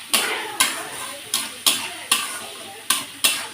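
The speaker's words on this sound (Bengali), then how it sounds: "এবার আমি মশলাটা সুন্দর করে কষিয়ে নেব।" Spice paste with turmeric and salt frying for a Bengali bata fish curry, with about eight sharp, evenly spaced spatula scrapes over a soft, steady sizzle, close and clear.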